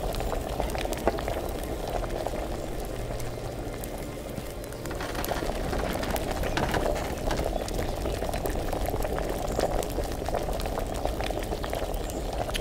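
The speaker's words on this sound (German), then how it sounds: "Jetzt kocht's." A cauldron of liquid boils in the medieval game Kingdom Come Deliverance, bubbling steadily and close. The bubbling grows a little busier partway through and continues on its own with no talking.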